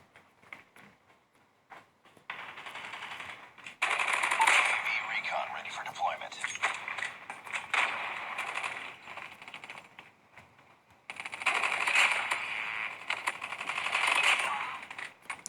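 Sustained bursts of heavy machine gun fire from the Holger 26 in Call of Duty Mobile, two long rattling volleys with brief gaps, as someone talks over the gameplay.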